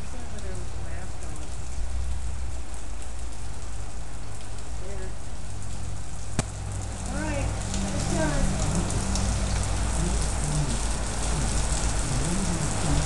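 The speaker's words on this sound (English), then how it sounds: "It's hailing like crazy." Snowy hail falls hard in North Hollywood under a dark cloud, a dense steady patter of pellets on surfaces throughout, with a person talking intermittently over it.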